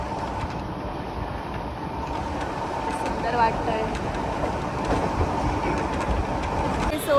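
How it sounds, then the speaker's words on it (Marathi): A Mumbai suburban local train runs near Bhayandar creek with a steady, close rumble and rattle of wheels on track throughout, while someone talks briefly over the noise. "यासाठी आम्हाला प्रवास करायला खूप आवडतो ट्रेनमधून"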